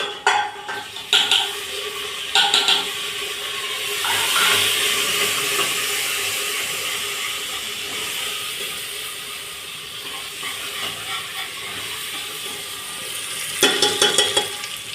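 Vegetables sizzle in a hot oil tempering (tadka) in a village kitchen, a steady close hiss with a few sharp utensil clatters near the start and a louder burst of clinks at the end.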